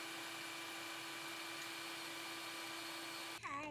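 A Ninja Creami Deluxe ice cream maker runs with a steady, loud motorized whir and a constant hum, then abruptly cuts off near the end as a brief high squeal follows.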